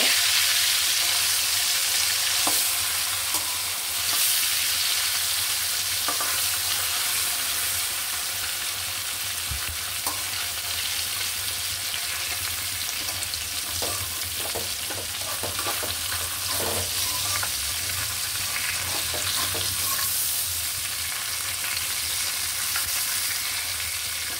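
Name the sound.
koi fish frying in a pan, being flipped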